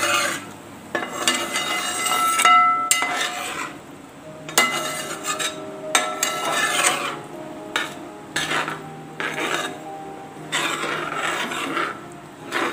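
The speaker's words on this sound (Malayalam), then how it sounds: "ഇതൊരു 2 മിനിറ്റ് നമുക്ക് നന്നായിട്ടൊന്ന് ഇളക്കി കൊടുക്കാം" A spoon scrapes and stirs moong dal payasam with jaggery syrup in a pot, giving repeated rasping strokes in uneven bursts. Brief pauses separate the strokes, and no one speaks.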